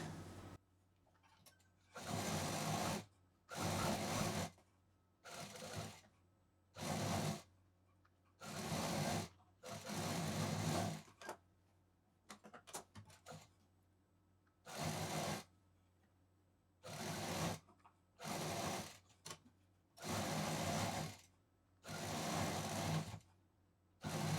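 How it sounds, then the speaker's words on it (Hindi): Sewing machine stitching a cloth bag, running in about a dozen short bursts of roughly a second each with brief pauses between, close and clear with no talk. "तो चलिए इस पर भी हम मशीन चला देते हैं।"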